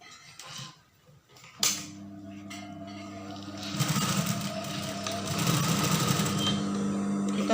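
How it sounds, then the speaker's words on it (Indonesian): A sewing machine stitches the ends of an elastic band together for gathered baggy pants, starting with a sharp click and then running in a steady, close mechanical whir that grows louder and continues to the end. "Pertama karetnya ini kita jahit jadiin satu kayak gini."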